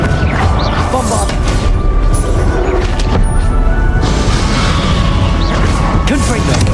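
Bombarda blasting spell going off in the Hogwarts Legacy video game, with repeated booming impacts, crashes and whooshes packed densely into a loud, chaotic battle mix, while a voice speaks over the top.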